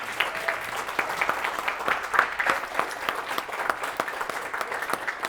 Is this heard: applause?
yes